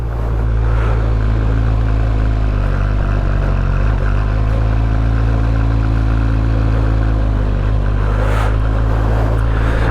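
A supersport motorcycle engine drones loudly and steadily while the bike is ridden through turns, with a constant low hum and only slight changes in pitch, alongside strong wind rumble.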